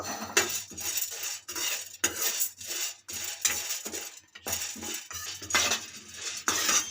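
Chana dal frying in a pan while a spoon stirs it, giving repeated rhythmic metallic scrapes and clatters roughly every second, close and fairly loud, with a soft background hiss.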